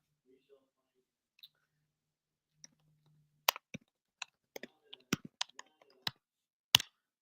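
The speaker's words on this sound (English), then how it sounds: "Maybe you guys heard me typing" Scattered sharp clicks of keyboard typing, irregular bursts of keystrokes in a quiet room, fairly close, with a faint low murmur early on.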